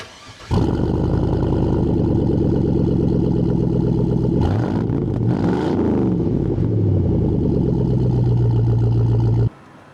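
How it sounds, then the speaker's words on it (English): A car engine, running without its catalytic converters, starts up and idles with a steady, throaty exhaust rumble, with a brief rev partway through, close and loud, then cuts off. "Let's go see if it made any difference in the exhaust sounds."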